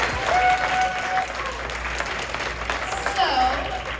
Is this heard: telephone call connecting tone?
no